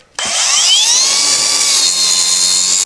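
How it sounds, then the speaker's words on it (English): An angle grinder cuts into a budget bike frame, starting abruptly and holding a loud, close, high-pitched whine with a shrill metallic ring that rises slightly in pitch as it bites, running steadily throughout. "now to get the angle grinder and lay on the ground."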